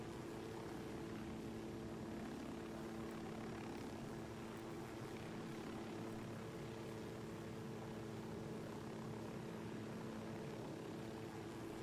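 A helicopter flies in the Ghost Recon Wildlands video game, a steady, loud rotor and engine drone that holds without a break for about twelve seconds, with no talking.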